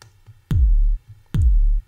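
Two heavy hard kick drum hits made in Ableton, loud and booming, each with a sharp click attack and a long sustained low tail, slightly faded, before cutting off.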